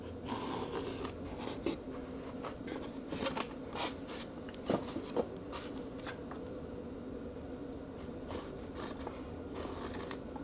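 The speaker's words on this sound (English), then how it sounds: "I'm just going to scribe round now where that needs to go." Faint scratchy strokes come and go quietly with no talk as a scriber is drawn around a part on a Warbirds Replicas Mosquito model aircraft build.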